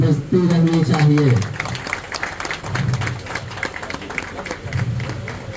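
Audience applause at a police lines event in Bhagalpur, a broad wash of clapping from a crowd that continues steadily throughout, with a voice speaking over it near the start.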